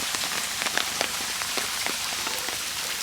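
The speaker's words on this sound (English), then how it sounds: "That is some serious rain." Heavy rain pours down in Bahia, Brazil, a dense steady hiss of drops hitting surfaces close by, with scattered sharper splats and no voices.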